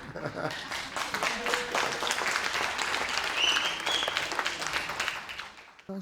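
Audience applause at a political debate, a sustained round of dense clapping from the crowd that lasts throughout and fades out at the end.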